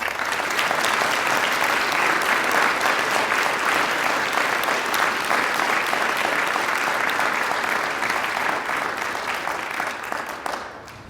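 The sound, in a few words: applause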